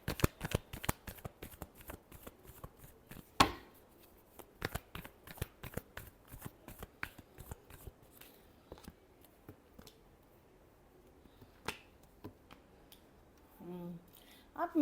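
A deck of cards is shuffled close up, a long run of crisp riffling snaps with brief pauses between them. A voice comes in faintly near the end.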